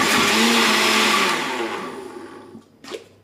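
A small kitchen blender whirs loudly while puréeing courgettes, then winds down to a stop, followed by a brief clunk.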